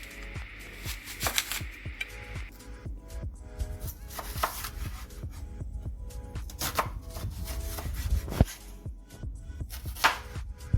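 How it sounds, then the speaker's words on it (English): A knife chops a large onion into small, thin pieces on a board, a fast, steady run of close, crisp taps continuing throughout without talk. "Cut the large onion in half and cut it in small,"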